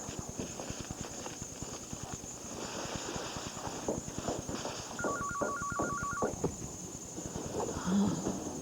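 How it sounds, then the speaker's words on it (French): A telephone rings in a French-language hospital drama, a regular electronic ring repeating in short bursts over a steady background hum, with no talking. "Téléphone."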